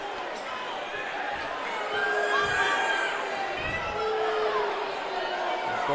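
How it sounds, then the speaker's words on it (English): A crowd fills a high school gym during a boys basketball game, a steady roar of chatter and cheering with a ball bouncing on the court partway through. "Crowd really getting into it now."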